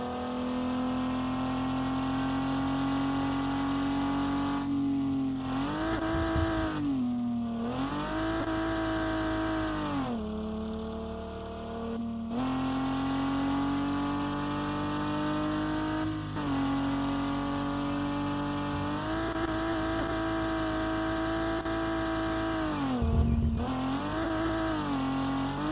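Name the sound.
car engine revving while driving in the video game Revhead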